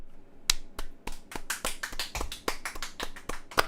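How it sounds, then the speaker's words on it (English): A slow clap during a live photography competition stream: a series of sharp, evenly spaced hand claps at a steady, unhurried rhythm, fairly close and alone without talk. "You just got a slow clap"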